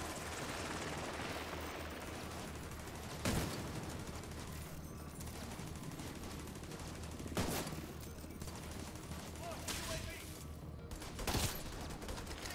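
Gunfire in the video game The Division 2, dense rattling bursts over a steady noisy background with a few louder sharp shots standing out, no voices.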